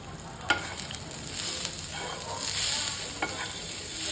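Finely chopped mint and half-dried curry leaves sauté in a hot pan for Kolhapuri mirchi thecha, with a steady close sizzle and occasional stirring scrapes throughout.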